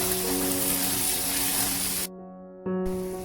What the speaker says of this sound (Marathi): हे मी कांदा आणि टोमॅटो असं चांगलं परतून घेतलं आहे आणि हे फुल गॅसवरतीच करायचं, सतत हलवत